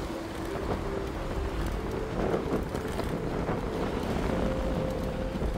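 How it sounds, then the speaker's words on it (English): Wind rushes steadily across the microphone of a gravel bike ridden along an Ozark Trail route through Detroit streets, a continuous broadband roar with a slight gust swelling midway, no talk. "It's windy this way."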